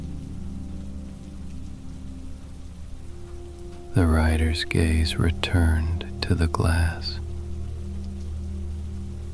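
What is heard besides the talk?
rain falling on a surface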